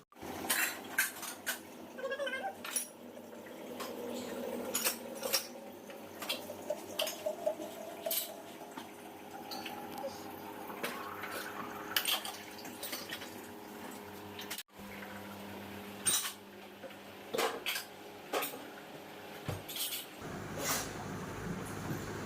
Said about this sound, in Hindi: अब इन्हें सारे को लगा देती हूँ रैक में।